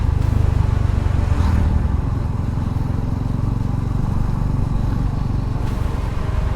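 A Suzuki V-Strom 250 motorcycle engine runs steadily up close, a loud continuous low rumble with no voices.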